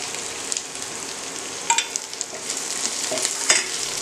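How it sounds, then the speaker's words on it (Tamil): Green gram sautés with garlic in a hot pan while being stirred. A continuous soft sizzle comes with intermittent scraping spoon strokes. "அடுத்து எடுத்து வச்சுருக்க பாசி பயிரையும் போட்டு வதக்க போகிறேன்"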